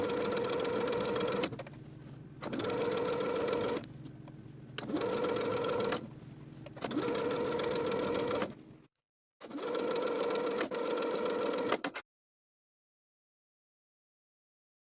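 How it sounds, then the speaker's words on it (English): A sewing machine understitching bias binding to the seam allowance of a top, running in several steady close bursts of rapid whirring stitches separated by short pauses, then stopping into silence. "Understitch the binding by sewing the binding to the seam allowance underneath"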